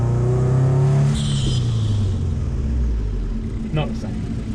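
A car engine fitted with a cheap eBay fake turbocharger revs loudly for about a second, then settles back to a lower, rumbling idle that fades off, with a short high whistle-like burst near the end.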